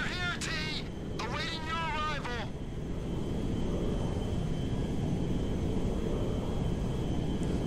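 Jet aircraft flying in GTA V, a steady broadband engine roar and rush that runs throughout, loud and continuous, with someone talking over it during the first few seconds.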